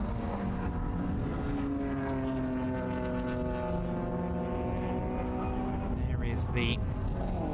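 A newer Honda Civic race car drives past at the Jarama Classic live race, a loud, steady engine drone with shifting pitch that swells and fades, heard under continuous commentary.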